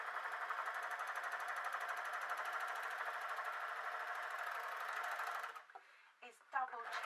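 An overlocker sewing machine stitches a blouse seam in a steady, rapid mechanical whir, loud and close for over five seconds, then stops, leaving a few brief handling clicks and rustles.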